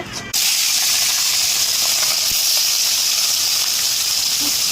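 Fish fries in a pan in a home kitchen, giving a loud, steady sizzling hiss that starts abruptly and runs unbroken throughout.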